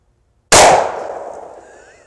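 A single sharp, loud gunshot from a 1916 Spanish Mauser rifle cracks after a moment of silence, then rings out in a decaying echo over about a second and a half.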